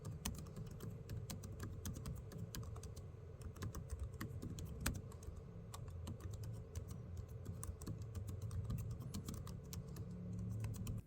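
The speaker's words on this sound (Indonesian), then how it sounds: "Keyboardnya juga menggunakan switch terbaru yang diklaim lebih hening saat dipakai mengetik." Typing on the keyboard of an ASUS Vivobook S 15 OLED laptop with newer quieter switches: a steady run of soft, rapid key clicks over a low background hum, continuous throughout.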